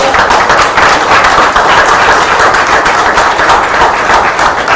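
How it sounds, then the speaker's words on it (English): Loud, dense clapping from supporters at a general election night gathering for the campaign team, a continuous close-miked roar of hands that holds steady for several seconds with no talking over it. "So let's give the team a round of applause."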